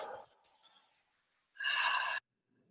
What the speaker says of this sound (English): Let's just breathe for a few breaths into.